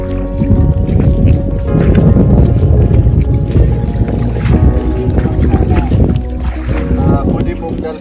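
A boat motor rumbles steadily and loudly, with water sloshing and wind buffeting the microphone. A voice talks over it.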